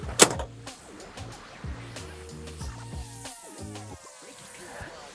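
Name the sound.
closing the door of a Polaris RZR Pro side-by-side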